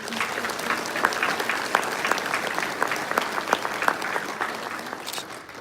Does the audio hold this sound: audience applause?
yes